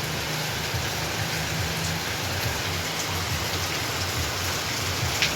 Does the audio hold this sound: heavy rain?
yes